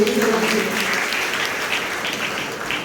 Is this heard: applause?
yes